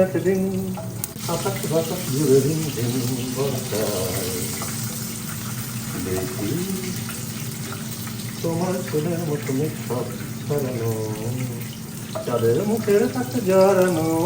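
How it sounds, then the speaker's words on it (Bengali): Rice sizzling in a little ghee in a pan while being fried for a Saraswati Puja bhog, a steady hiss with stirring clinks beneath, with a song and background voices over it. "এবার একটুখানি ঘি নিয়ে চালটা ভেজে নিচ্ছে"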